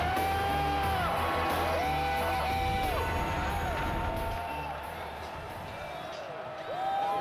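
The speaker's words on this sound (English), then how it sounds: "And this big crowd is ready" A big stadium crowd roars and cheers at a college football game between Florida State and Oklahoma, a loud continuous wash of noise with whistles and calls over it.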